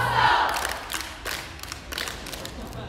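Students shout and cheer together at Simpson College's annual Yell Like Hell homecoming rally, a dense crowd roar with rising bursts of yelling and rhythmic thumps, loud and sustained throughout.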